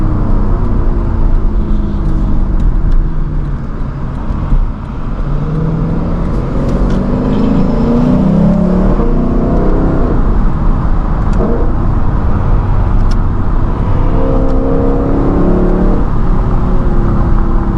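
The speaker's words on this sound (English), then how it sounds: "Listen right here, listen to this downshift. This car is just angry and just wants to go." A Lexus LC 500's V8 engine blips and revs through repeated downshifts, a steady loud in-cabin drone with rising and falling engine tones and no talking.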